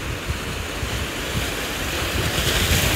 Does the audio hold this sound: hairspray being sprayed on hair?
no